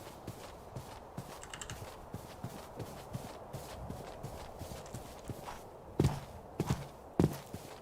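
Horse hooves in the Minecraft TerraFirmaCraft game clip-clop in a steady walking rhythm against ambient noise. A few heavier, closer hoof thuds land near the end.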